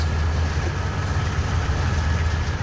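A CN/IC C40-8W diesel locomotive hauling a grain train through Marias Pass in Train Simulator 2019, giving a steady, loud low-frequency engine rumble with a faint high tone. No talk.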